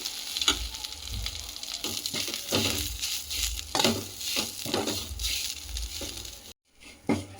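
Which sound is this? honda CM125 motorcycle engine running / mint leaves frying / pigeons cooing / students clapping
mint leaves frying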